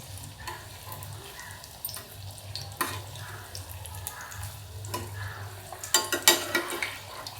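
Pea breakfast patties fry in oil over a low gas flame, a soft continuous sizzle with a faint low hum, occasional utensil taps and louder crackling bursts near the end.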